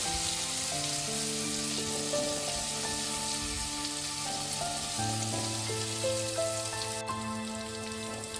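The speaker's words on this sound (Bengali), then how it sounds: "রসুনটা আমার ভাজা ভাজা হয়ে গেছে" Garlic paste frying in a pan for Dhaka-style mustard-poppy hilsa, a steady loud sizzle with crackling spatter running throughout, alongside a held musical tone.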